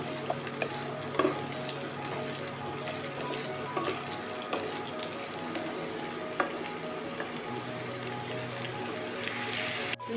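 Chopped bottle gourd fries in mustard oil, giving a soft, steady sizzle close by with occasional light clicks of a spoon stirring the pan.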